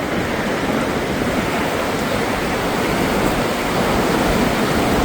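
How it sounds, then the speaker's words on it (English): The flooded Little Miami River rushes past in a loud, steady roar of turbulent water, dense and unbroken, heard up close with no voices. "Here's the river coming at you."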